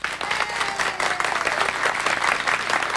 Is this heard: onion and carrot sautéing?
no